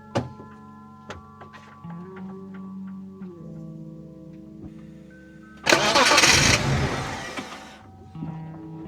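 A BMW E36 fitted with a new cold air intake cranks and fires up loudly after a few soft clicks and thunks, then settles into a steady idle close by.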